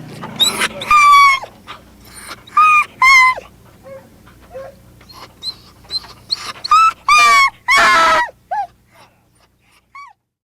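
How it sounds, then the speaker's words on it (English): Hunting dogs waiting before a lion hunt bark and whine in close, loud bursts with high yelping whimpers, separated by short quiet gaps. "The dogs were ready to go."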